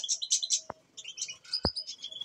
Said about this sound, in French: Mes 6 mâles canaris.